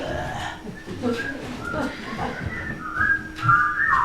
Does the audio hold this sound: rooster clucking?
no